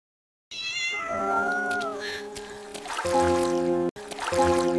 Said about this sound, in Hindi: वो उनके पास पहुंचा और जोर जोर से मियाऊं करने लगा।